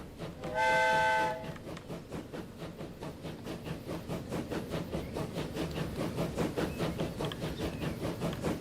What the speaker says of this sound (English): First train.